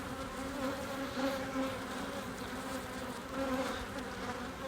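Honeybees buzz close by in a steady, droning hum with gently wavering pitch, several insects overlapping continuously with no voices.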